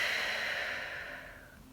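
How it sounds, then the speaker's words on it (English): A single slow, soft exhale during a yoga session, breathy and airy, fading gradually over a second and a half with no talking. "Continue to breathe."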